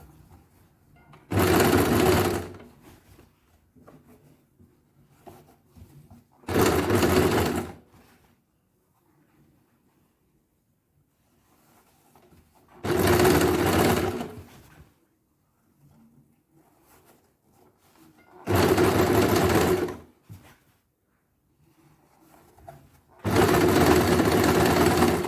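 Short bursts of a sewing machine stitching durag fabric, five separate runs of a close, steady motor whir with quiet gaps between them.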